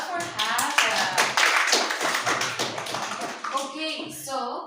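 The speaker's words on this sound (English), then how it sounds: "an applause for Hasan" A classroom bursts into brief applause for a student, many hands clapping and tapping close by in a busy patter, with voices speaking over and among the claps.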